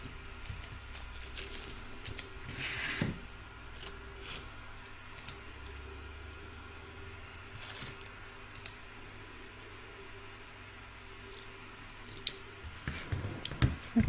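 Scissors snipping away excess fabric from the back of an embroidered seashell near a ribbon, quiet close cuts in irregular bursts with soft rustling of the cloth between snips.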